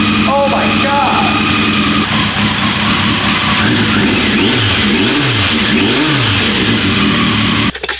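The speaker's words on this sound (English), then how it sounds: "I don't know any bike that cold starts that fast" A turbocharged Yamaha Seca XJ motorcycle engine runs loud and close just after a quick cold start, its revs swelling and falling in several throttle blips over a steady idle, with a voice talking over it.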